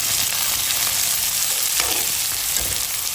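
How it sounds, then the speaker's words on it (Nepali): Chopped onions frying in oil in a pan for a vanta dish, a steady close, loud sizzle that carries on throughout with faint stirring scrapes and no voices. "प्याज राखिसकेपछि यसलाई गोल्डन ब्राउन हुन्जेलसम्म फ्राई गरौँ।"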